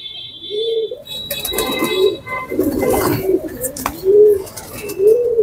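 A sick pigeon coos repeatedly at close range while being hand-fed, its soft rolling calls coming in regular bursts over light handling noise.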